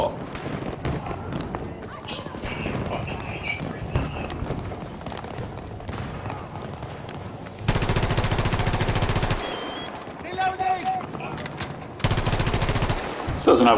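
Bursts of automatic gunfire in Battlefield 2042 rattle out amid busy battlefield noise, with dense rapid shots in two sustained loud stretches and scattered firing elsewhere.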